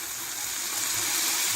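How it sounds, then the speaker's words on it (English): White wine pours into a pot of brown stew tofu to deglaze it, a steady, soft, close liquid hiss and splash that runs the whole time with no pause. "I'm going to add some white wine. Yes, guys, just to deglaze the pot a little."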